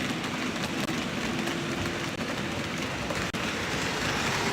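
A train in a Japanese railway video game runs continuously with a dense rumbling, hissing roar, loud and steady throughout, with faint clicks and no voices.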